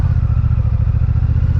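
A 2026 Honda Rebel 1100 motorcycle rides over rough, freshly redone asphalt, its loud, close engine putting out a steady low throb with a rapid, rhythmic pulsing rumble from the uneven road surface.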